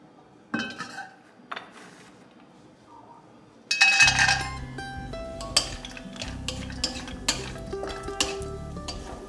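Mustard oil and ghee heating in a wok start to sizzle softly after a few clinks of metal utensils, and a low frying hiss continues beneath scattered taps and scrapes against the pan.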